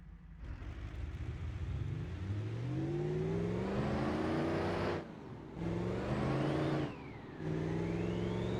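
A powerful car engine with nitrous enabled, rated near 1,000 horsepower and 2,000 pound-feet of torque, revs up hard in rising sweeps, dropping briefly twice between loud pulls, close and sustained with no talk.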